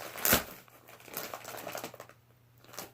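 A plastic bag being cut open for a hoodie unboxing gives a sharp crinkling burst followed by softer rustling and crackling of the plastic, close and fairly quiet.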